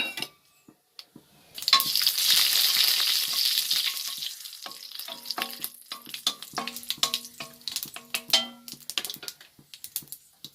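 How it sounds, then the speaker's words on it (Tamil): Mustard seeds, cinnamon and fennel sizzle loudly in hot oil for egg kuzhampu, a steady crackling fry with scattered sharp pops and a faint clink of a utensil, no talk. "கடுகு, பட்டை, சோம்பு போட்டாச்சு"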